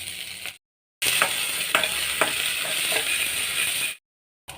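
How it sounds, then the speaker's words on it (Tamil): Shallots and potatoes sauté in a pan, a steady close sizzle with a few scraping stirs, cut off by short silent gaps at the start and end. "வெங்காயம் வதங்கினதும் நம்ம கட் பண்ணி வச்சுருக்கிற உருளைக்கிழங்கு போட்டுடலாம்."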